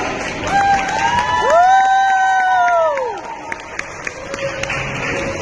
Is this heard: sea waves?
no